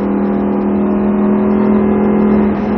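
Lamborghini Huracan on the Salon-de-Provence circuit, its engine holding a loud, steady, close drone under light throttle throughout, with no voices.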